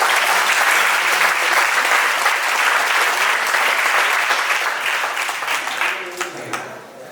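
Loud, dense applause from an audience at a Jain religious gathering, sustained for several seconds before gradually tapering off at the end.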